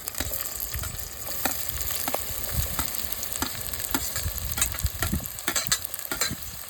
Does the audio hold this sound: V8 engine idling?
no